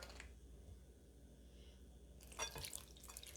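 Warm water is poured into pizza dough ingredients in a home kitchen, a faint, soft liquid splash that becomes a little louder and more broken near the end.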